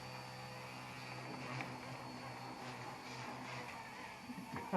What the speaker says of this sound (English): It's a good helicopter.